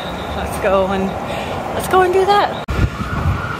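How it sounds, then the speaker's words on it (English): A wailing city siren in North Vancouver rises and falls in the distance, partly under nearby conversation and street noise. "There's always sirens going off in the city"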